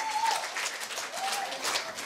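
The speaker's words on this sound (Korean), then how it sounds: "수고하신 분들께 다시 한번 큰 박수" Students and guests at a middle school speaking festival applaud at length, a steady crowd clapping with faint voices or cheers mixed in underneath.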